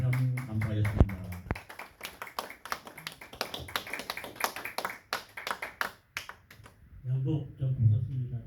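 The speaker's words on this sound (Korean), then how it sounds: "나오실 때 많은 박수로 환영해 주시면 감사하겠습니다." An audience at a Korean lecture on America's rise to superpower welcomes a pastor speaker with crisp, rhythmic clapping that holds steady for about six seconds, then stops as a voice takes over.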